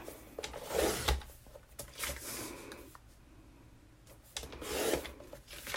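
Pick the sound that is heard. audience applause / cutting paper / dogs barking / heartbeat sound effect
cutting paper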